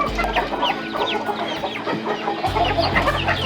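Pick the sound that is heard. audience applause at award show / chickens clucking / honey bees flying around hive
chickens clucking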